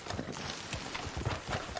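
Horse hooves clip-clopping at a quick, uneven pace in Red Dead Redemption 2, a steady run of close, soft thuds over game background ambience.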